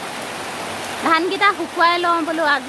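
Steady rain falls over a rural yard where paddy rice was laid out to dry in hot weather, forming a constant wash of noise with a voice speaking over it for much of the time.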